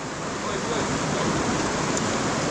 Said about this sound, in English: This river goes legit under all these rocks.